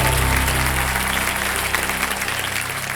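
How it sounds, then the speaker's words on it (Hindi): Studio audience at the Kaun Banega Crorepati quiz show bursts into sustained, loud applause, a dense wash of clapping that holds steady throughout with a faint musical hum underneath. "एक बार जोरदार तालियां बजा विजल जी के लिए"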